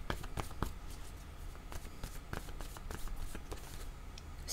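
Playing cards riffled and shuffled by hand during a tabletop word game, a quick run of soft papery flutters and taps, close and fairly quiet, with no talking.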